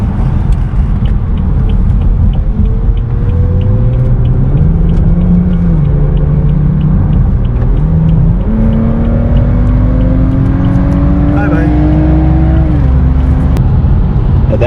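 A 630whp BMW with a B58 engine running E50 and methanol drives along, its engine note sweeping up through the gears with rising pitch and brief dips between shifts over a constant road rumble.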